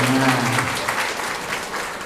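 Audience applause at a Sunday morning Islamic study gathering, a short burst of clapping from a crowd, fairly close and fading slightly over two seconds, with a brief voice at the start.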